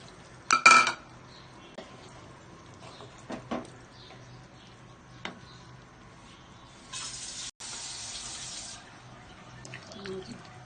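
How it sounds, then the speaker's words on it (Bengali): Water is poured for about two seconds into a pan of cooked-down flat beans and potatoes for a snakehead fish curry, a soft rushing splash following scattered clinks of a utensil against the pan. "এখন পানি দিয়ে দিব।"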